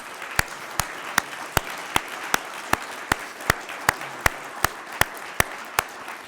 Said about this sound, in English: I think this is a big applause